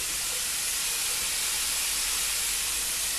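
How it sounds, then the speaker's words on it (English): An electric fry pan gives off a steady, bright hiss as it heats up for a stir fry, close and continuous with no break for the full few seconds. "We need our fry pans to heat up again. It's an electric fry pan."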